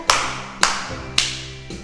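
Three evenly spaced sharp claps, about half a second apart, ring out over a soft musical background during a Sunday school children's worship song.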